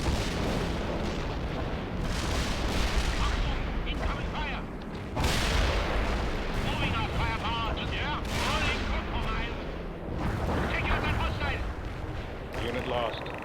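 Missile strikes explode again and again in the World in Conflict video game, a dense, roaring barrage of booms and rumbling blasts that never lets up, with other battlefield noise and voices in the mix.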